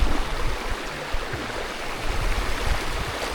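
A clear river in the Infanta and Real area of Quezon flows nearby with a steady rushing, burbling wash and low gurgles, and no talk is heard.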